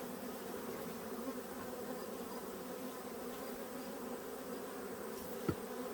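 Honey bees buzz steadily around an open hive during a late-summer inspection, a dense continuous drone close by, with one brief sharp knock near the end.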